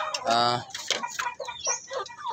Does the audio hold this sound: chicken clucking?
yes